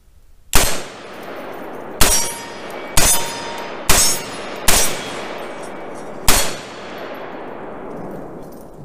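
Six loud shots from a Palmetto State Armory KS-47 rifle fired outdoors at a target, spaced about a second apart with one longer gap, each a sharp crack trailed by a ringing decay.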